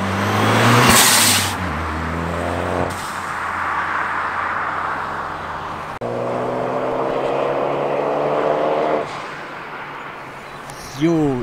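Ford Focus ST with a green aftermarket air filter, engine intake roaring and rising through revs before a shift, then climbing again; a sustained, close and loud whoosh and drone.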